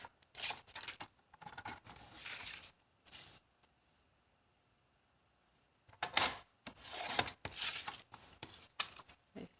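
Scissors cut paper and vellum for a pocket letter craft project, with close, crisp snipping in short bursts, a silent gap in the middle, then a second run of cuts.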